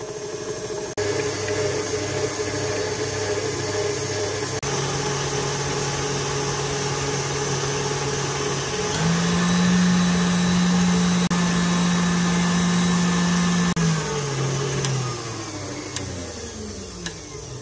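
An electric mixer whips egg whites for a chestnut-cream tiramisu, a steady motor whine that steps up in speed partway through, holds at a higher, louder pitch, then winds down near the end.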